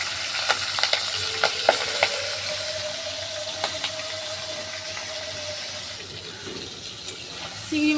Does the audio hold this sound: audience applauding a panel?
no